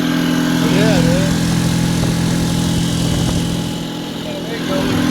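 Small 4 hp outboard boat motor running steadily, a close, continuous buzzing drone with a slight dip in pitch and level near the end; people talk over it.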